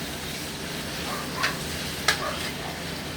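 Onion and tomato sautéing in a pan give a steady, moderate sizzle, broken by two brief scraping stirs of a spatula partway through.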